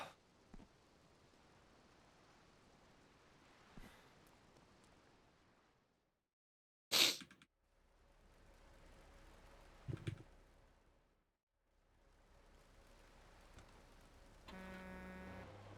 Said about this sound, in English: Doing this mission in rain is not ideal.